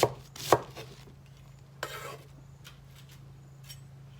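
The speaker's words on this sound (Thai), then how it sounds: "หั่นผัก หั่นผักเตรียม เตรียมทำอาหาร" Vegetables being chopped on a board for cooking: a few sharp knife strikes and scraping strokes, close, spaced irregularly against a quiet room hum with no talk.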